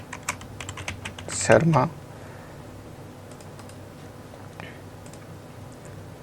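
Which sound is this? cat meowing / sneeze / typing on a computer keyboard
typing on a computer keyboard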